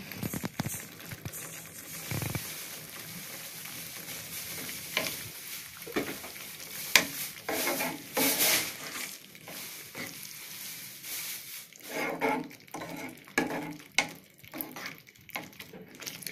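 Tomato thokku bubbles and fries in oil in a pan as a spoon stirs it, with steady sizzling and intermittent scraping and clatter, close-up and without speech.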